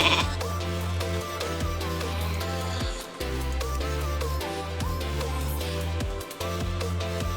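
A sheep bleats from a Frost Mage's polymorph spell in World of Warcraft TBC Classic, repeated short bleats over steady game music and effects.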